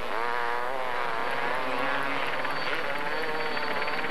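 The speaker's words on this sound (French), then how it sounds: "Vous le voyez sur les images d'hélico proposées par Georges Gourmelon" A helicopter flying over an enduro motorcycle race at Le Touquet gives a steady, continuous rotor and engine drone, moderately loud throughout and partly under a commentator's voice.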